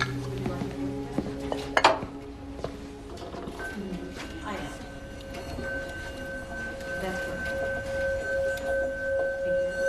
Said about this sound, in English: It's called a singing bowl.